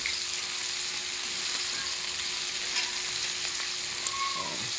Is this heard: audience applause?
no